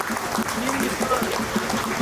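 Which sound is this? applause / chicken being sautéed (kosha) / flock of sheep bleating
applause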